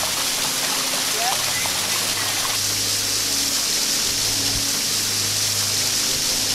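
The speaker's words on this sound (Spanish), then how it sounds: "Llegamos a la cascada del graffiti." A graffiti-covered waterfall hidden in the mountains near Riverside, California, sends out a constant, close rushing roar of falling water. The sound stays steady and even, without a break.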